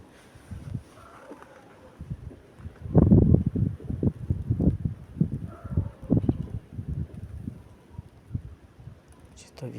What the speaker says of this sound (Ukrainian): Вітер такий шумить, дуже сильно так шумить.